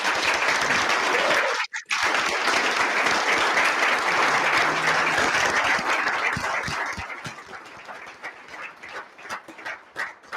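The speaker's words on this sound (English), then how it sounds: "If we can give them a round of applause, please." Loud, sustained applause from a crowd at a school board meeting fills the room, briefly cut off once, then tapers into scattered claps that fade out.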